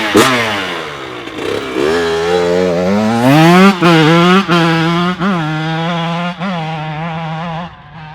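A Kawasaki KX100 two-stroke supermini motorcycle revving hard close by, its high-pitched engine climbing and dropping through repeated throttle blips and gear changes.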